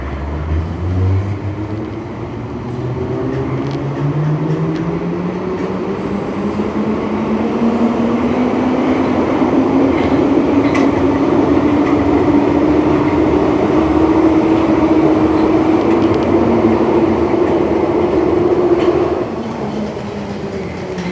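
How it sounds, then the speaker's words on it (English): London Underground Bakerloo Line train running at speed toward Elephant and Castle, a loud steady rumble with a rising wheel whine that climbs as it accelerates, then eases near the end. "This is a Bakerloo Line train to Elephant and Castle."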